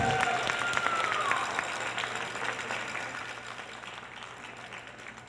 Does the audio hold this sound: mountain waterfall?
no